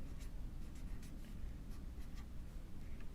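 A pen or marker writes a question onto the front tab of a paper foldable, giving steady faint scratching strokes in a quiet room with no talk.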